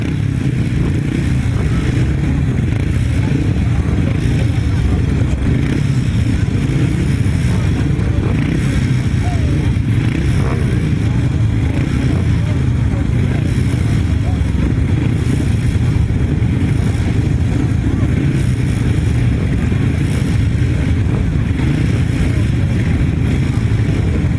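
Grasstrack solo racing motorcycles ride out for a heat, their engines making a loud, continuous drone and rumble throughout.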